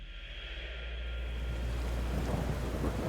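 Thunderstorm sound effect with steady rain: a low rolling thunder rumble swells and lingers beneath a constant hiss of rainfall that grows slightly denser, with no voices.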